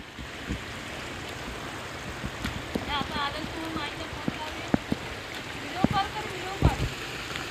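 Mountain stream water gurgling and rushing through green Konkan hills during rice-planting season, a steady broadband flow with brief voices and small knocks over it.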